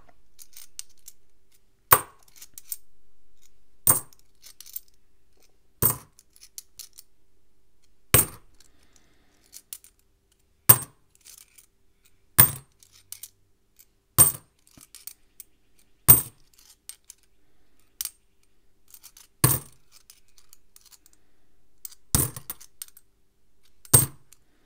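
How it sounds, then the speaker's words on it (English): Australian 50-cent coins from a roll are handled one at a time, giving sharp, close metallic clinks at a steady rhythm of roughly one every two seconds, with quiet between them and no talk. "let's check through this whole roll of 50-cent coins, see if we've got anything super rare in here"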